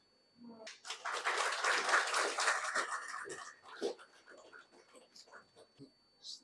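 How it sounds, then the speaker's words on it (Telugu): An audience claps together at a Telugu Vedic scholarly gathering honouring an avadhani. The applause swells for a few seconds, then thins into scattered claps mixed with voices. "మనకు మనమే ఒకసారి చప్పట్లు కొట్టుకుందాం."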